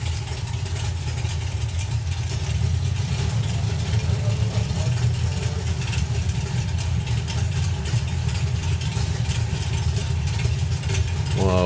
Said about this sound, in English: went way up on the revs there, a few pops and bangs from the pipes